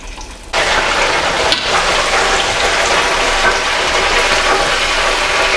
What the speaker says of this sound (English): So these fillets will cook for between 10 and 12 minutes.